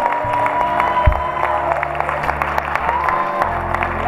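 A church congregation applauds during a Sunday service, a crowd's hand claps spread over sustained organ-like tones, moderately loud and continuous.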